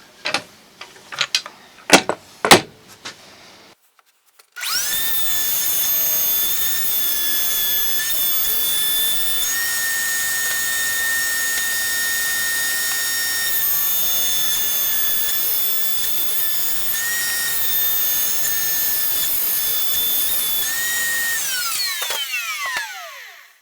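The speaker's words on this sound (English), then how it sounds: "So I'm using my table saw fence here, and I'll cut this here and then a couple of cuts across this other way." A table saw makes a relief cut in wood while a MicroJig 360 sled is being built. Handling knocks come first, then the saw spins up into a loud, steady, high whine that holds for about eighteen seconds and winds down at the end.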